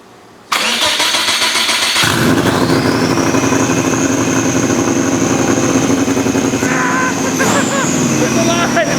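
A Subaru Impreza GC8 engine cranks briefly, catches and roars to life, then settles into a loud, steady, slightly uneven idle with a whining tone above it, close by, while people talk faintly in the background.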